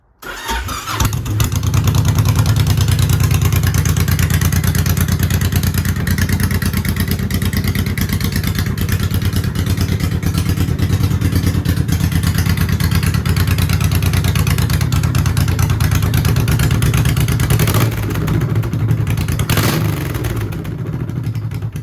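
A custom Honda VTX 1800 bobber motorcycle engine cranks and catches almost at once, then runs loud and steady at a deep, lumpy idle with a faint mechanical clatter, close up and with no talking.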